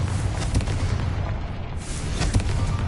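Confringo fire-blast spell detonating in Hogwarts Legacy, a sustained roaring boom with several sharper bursts layered over heavy low rumble, loud and close.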